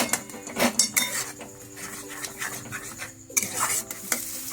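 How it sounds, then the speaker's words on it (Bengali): A spoon scrapes and clinks in a metal pan as slit green chillies are stirred into a frying masala for dhaba-style egg tadka, giving irregular close knocks and scrapes over a faint sizzle. "এটাকে একটু নাড়াচাড়া করব"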